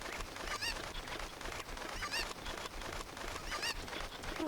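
Chickens clucking and squawking in the video game The Legend of Zelda: Ocarina of Time, with repeated short calls over a dense, steady background of game sound.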